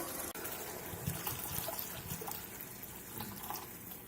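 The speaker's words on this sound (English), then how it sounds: "Add in some water." Water poured steadily into a pan of simmering yogurt-based raw banana and paneer kofta curry, a continuous close splashing trickle lasting several seconds.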